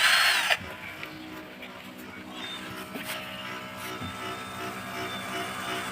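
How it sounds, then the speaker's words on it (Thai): Pump inside a hot and cold water dispenser runs with a steady mechanical drone and faint hum, preceded by a brief louder hiss, with small clicks and knocks scattered throughout at close range. "เดี๋ยวปั๊มทำงานละ"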